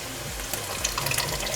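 Tomato sauce poured from a container over meat in a cooking pot, giving a steady, close liquid pouring and splashing sound that carries on for the whole short moment without any speech.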